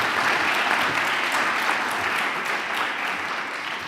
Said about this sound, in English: Two claps here.